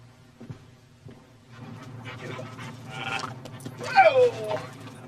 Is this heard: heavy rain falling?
no